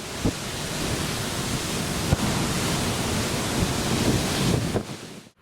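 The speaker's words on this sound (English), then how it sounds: "the wind has picked up and the seas are a bit rougher" Strong wind roars across the deck of a cruise ship in rough seas, a loud, steady broadband rush of wind and surging waves with occasional thumps of wind buffeting the microphone.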